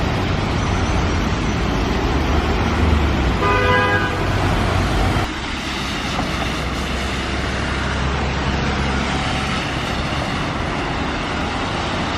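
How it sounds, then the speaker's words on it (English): A car horn toots briefly amid steady loud traffic noise, with vehicles rumbling past close by. "I just keep having Italians honk their horns"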